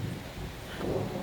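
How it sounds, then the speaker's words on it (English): Low rumbling thunder rolls through a mountain rainstorm on a backpacking trail in Wyoming's Cirque of Towers, a steady broad roar mixed with the hiss of falling rain, swelling slightly toward the end with no voices. "there's some thunder and lightning."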